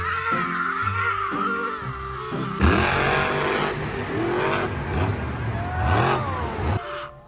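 A toy monster truck with big wheels being played with gives out electronic revving and racing-engine sounds that rise and fall in pitch in repeated bursts, close and fairly loud, with no talking.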